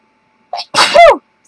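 A single loud, close human sneeze, with a short sharp intake of breath and then a forceful burst that trails off, during a home craft session stripping adhesive from a bottle.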